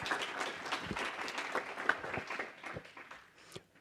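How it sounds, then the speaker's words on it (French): Audience applause at a round-table conference, a fairly close burst of many hands clapping that thins out and fades toward the end. "je pense que ça vaut le coup d'être applaudi, le boulot qui a été fait"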